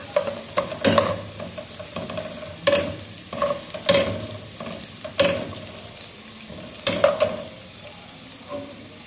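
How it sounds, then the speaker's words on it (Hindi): Sliced onions browning in three tablespoons of oil over a medium flame for Pakistani chicken pulao: a steady close sizzle broken by sharp, irregular spatula scrapes and clanks against the pan every second or so. "थ्री टेबलस्पून ऑयल डाला और प्याज को"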